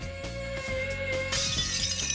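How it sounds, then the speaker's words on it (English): A crystal glass bursts apart after a sustained resonant tone, the steady ringing note followed by a sudden bright shattering crash and tinkling fragments, loud and close. "on breaking glass, the key ingredient was finding the resonant frequency of the crystal"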